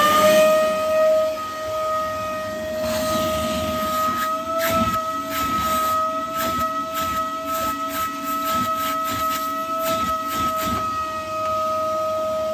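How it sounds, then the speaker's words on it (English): Vacuum cleaner running to unblock a drain, with a loud, steady whining drone carrying tonal hums and irregular rattling bursts through the middle. "Let's fire up the vacuum cleaner."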